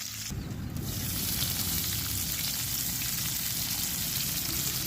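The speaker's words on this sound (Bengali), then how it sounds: "আমি মাছগুলো আপনার একটু ভাজা করি" Fish fry in a pan on a clay stove with a steady, even sizzle and faint crackling, heard close up and continuing without a break.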